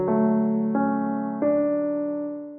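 Stock Stage Grand piano in FL Studio, unprocessed and without effects, plays three chords in succession, each struck cleanly and left ringing, the last decaying slowly to silence.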